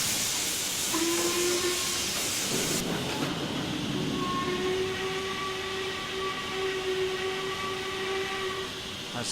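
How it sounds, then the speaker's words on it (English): A steam locomotive whistle in Train Simulator 2016 on the Maerdy line, with steam hiss first and then a long, steady, clear whistle blast that holds for several seconds. "That's the second whistle."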